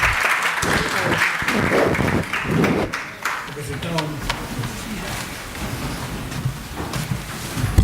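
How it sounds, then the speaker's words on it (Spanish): An audience at a seminar on human trafficking welcomes a speaker with applause. Dense clapping dominates the first few seconds, then fades into a noisy room with a voice speaking over it. "les pido que reciban con fuertes aplausos al doctor Pedro Mejía Salas"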